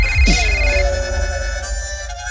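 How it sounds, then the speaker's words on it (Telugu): A mobile phone ringtone plays loud and close, a sustained musical ring with steady tones, continuing alone without any talk. "అరే రామ్, ఫోన్ తీరా."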